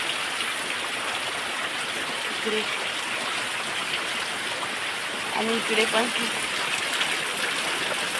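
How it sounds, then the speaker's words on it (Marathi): Heavy rain pours down in a steady, dense roar, with a few brief spoken words partway through. "किती पाऊस पडतो जाम पडतो पाऊस"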